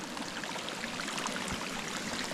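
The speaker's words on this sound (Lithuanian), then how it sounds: "Realiai per visą takelį vanduo bėga." Water runs down a wet mountain trail on the way up Giewont, a close, steady babbling trickle with small splashes and gurgles over the whole stretch, with no voices.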